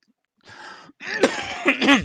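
Rough, throaty coughing: a short hack followed by a longer, louder fit of harsh coughs close to the listener.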